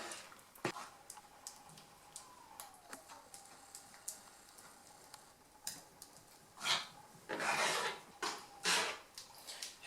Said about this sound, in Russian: И начинаем все помешивать, пока не образуется однородная такая масса.